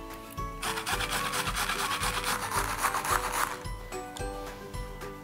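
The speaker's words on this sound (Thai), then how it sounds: "เราจะล้างทำความสะอาดแล้วก็ขูดให้เป็นฝอยเตรียมไว้ก่อนเลยครับ" Carrots scraped into shreds on a grater, a steady rhythmic rasping of repeated strokes, close and fairly loud with no talking.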